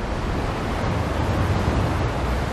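Winter sea waves crash against the rocks of the Sokcho coast on Korea's East Sea in Gangwon, making a steady, dense roar of surf with no breaks and no voices.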